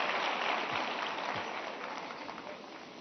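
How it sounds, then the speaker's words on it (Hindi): An audience at a large public interaction event in India claps in a broad, steady wash of applause that gradually tapers off, heard from a distance with no speech over it. "ये आपकी पसंद की बात आई तो ताली बजाते हो आप लोग।"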